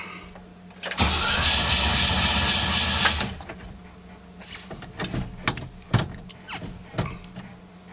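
A 1957 Chevy V8 cranks over loudly for about two seconds without catching after its fuel line was off, then a few separate clanks and knocks follow in the quieter garage.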